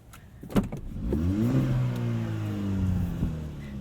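A 2017 Hyundai Elantra Sport with a 7-speed dual-clutch gearbox revs up under acceleration, its engine note climbing loud and close from inside the cabin after a couple of clunks.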